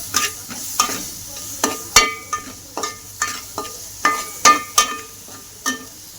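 Spring onions sautéed with masala in a pan, a spatula scraping and stirring in repeated sharp strokes every half second or so over a low sizzle, close and fairly loud, no voices.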